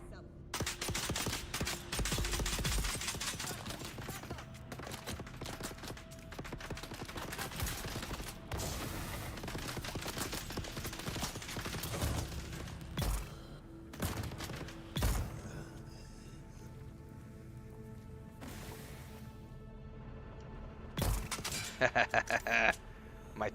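Turret gunfire in Dune: Awakening, repeated rattling bursts, some loud and near, others farther off, broken by short lulls and mechanical clanks, with occasional talk over the top.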